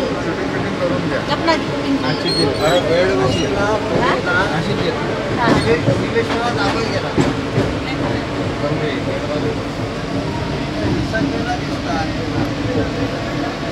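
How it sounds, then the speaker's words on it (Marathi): A crowded train carriage: many overlapping voices chatter close by over the constant rumble and rattle of the moving train. "ही आहे ट्रेन मधली गर्दी."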